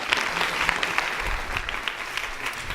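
A summit audience claps in honor of Dr. Jaime Saavedra, a continuous, fairly loud wash of many hands applauding throughout without pause.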